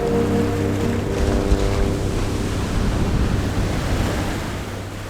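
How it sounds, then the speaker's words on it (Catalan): Stormy sea waves crashing against rocky cliffs below a coastal village, a steady loud roar of surf and wind with low rumbling swell throughout, no voices. "el mar embravit colpejava les roques com si busqués obrir-se camí terra endins"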